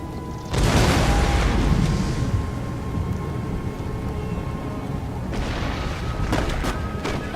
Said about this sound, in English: A 64-pounder heavy artillery